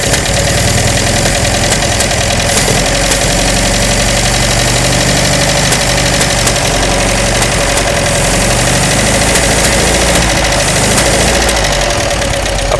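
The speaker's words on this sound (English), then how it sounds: "the carbs need to be tuned. It's spitting back because they're very lean" 1938 MG TA engine running with lean, untuned carburettors, loud and close: a continuous rough idle with a busy mechanical clatter and irregular spitting pops throughout, with no talking.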